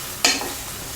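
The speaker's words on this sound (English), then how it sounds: "Saute for another while until the onion starts to turn soft." Onion sautéing in a pan gives a short burst of sizzle as it is stirred, fading quickly to a faint background hiss.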